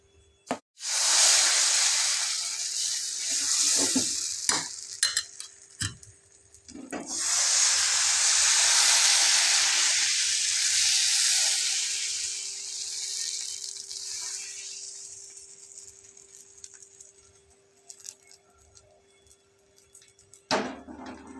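Appam batter poured into a hot pan sizzles with a steady hiss that swells, fades, then rises again and slowly dies away, broken by a few clinks and knocks of utensils.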